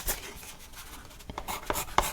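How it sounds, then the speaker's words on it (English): A pen scratches out short labels for a photo album in quick, close strokes and taps, with a faint voice now and then. "I'm going to write"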